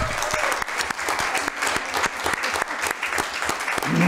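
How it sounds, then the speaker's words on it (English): Applause breaks out at a city council meeting, with a moderately loud, continuous patter of many hands clapping throughout and no voices over it. "I think we need a round of applause for Gretchen and Kurt"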